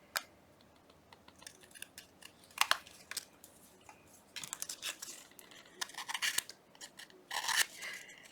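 Tim Holtz end paper trimmed with scissors, a string of short crisp snips and papery rustles, close and quiet, growing busier and denser toward the end, with no talking.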